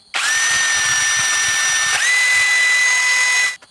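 A power drill spins a lower brake pump part against coarse sandpaper, whirring at high speed with a steady whine, briefly dipping in pitch midway before spinning up again, then cutting off.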